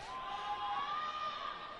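Ultimate frisbee spectators at the Dallas Roughnecks bench cheer and applaud during an AUDL match against the Seattle Cascades, a steady crowd roar held at moderate distance for about two seconds.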